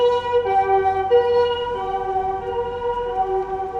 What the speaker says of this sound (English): That ambulance sounds different than...